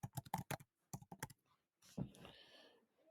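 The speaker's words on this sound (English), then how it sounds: "my typing is so bad." Fast bursts of keystrokes on a computer keyboard, two clusters of quick clicks separated by a brief pause, followed by a softer, smeared rustle near the end; close, quiet and without any voices.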